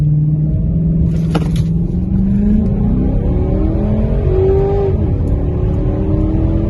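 A Dodge with an aftermarket tune pulls hard through its gears, the engine note climbing steadily, dipping at a firm shift and then rising again, loud and continuous from inside the car.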